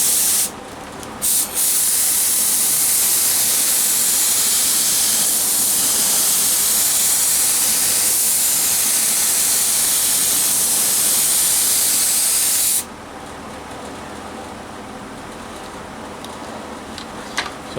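A Harbor Freight 66222 HVLP spray gun shoots candy paint at 20 psi, a loud, continuous close-up hiss lasting about eleven seconds after a couple of short bursts, then stopping abruptly.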